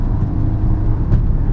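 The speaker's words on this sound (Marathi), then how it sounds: "जी बघा, एक्सेलेटर दिला" A car pulls away as the accelerator is pressed, a close, low engine rumble that swells briefly under load.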